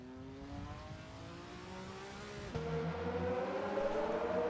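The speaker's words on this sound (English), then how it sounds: "Engine noises can be so much quieter inside for some of the cars versus the other models." Race car engines drone through an endurance racing video game at Le Mans, a steady tonal hum that jumps abruptly louder and higher midway, as if switching to another car or view, with no talk.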